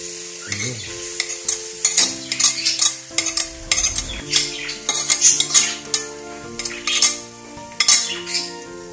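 Garlic stirred in oil in a pan for chili garlic sauce: a metal utensil scrapes and clinks against the pan in irregular strokes over a gentle sizzle, with no talking.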